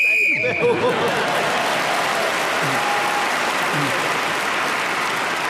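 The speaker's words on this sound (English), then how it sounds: "Sue Perkins and Paul Merton were both speaking together as the whistle went" A whistle is blown to end a round on a radio panel game show, followed by loud, sustained studio audience applause that fills the rest of the clip.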